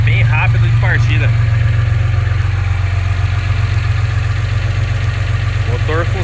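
A Chevrolet Opala six-cylinder engine idles smoothly and steadily after a cold start, a loud, close, low rumble throughout with someone talking over it.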